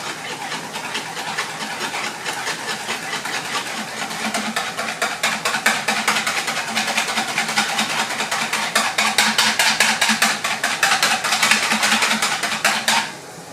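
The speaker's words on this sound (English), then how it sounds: "I'm going to whisk this until it all comes together smoothly" A whisk beating a casserole mixture in a bowl, with rapid rhythmic clicking against the sides that grows faster and denser toward the end before stopping abruptly.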